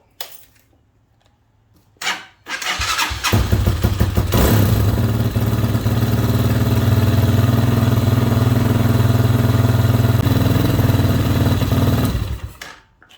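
A Hawk 250 Enduro motorcycle, just refilled with fresh oil, cranks with a couple of short starter bursts, then catches and settles into a loud, steady single-cylinder idle that runs for about ten seconds before shutting off.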